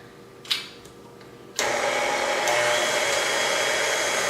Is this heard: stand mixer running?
yes